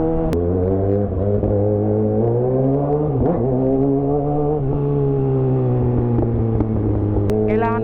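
Engines of cars in heavy traffic on EDSA drone steadily and close, with a low sustained hum and a brief horn-like tone near the end.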